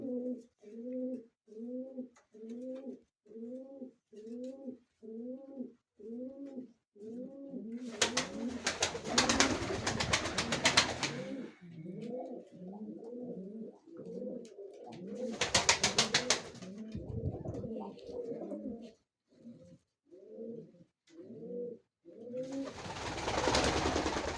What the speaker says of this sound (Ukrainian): чубата голубочка і голуб чубатий.